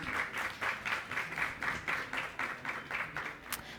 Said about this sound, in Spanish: Démosles un aplauso y bienvenidos a este evento.